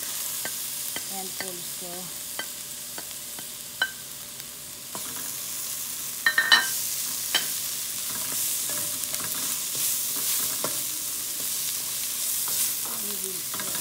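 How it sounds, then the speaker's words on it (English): Garlic frying in a pan for dal gives a steady broadband sizzle throughout, with a few sharp utensil clicks and stirring scrapes over it. A brief spoken phrase passes over the frying. "now at this point we will add garlic"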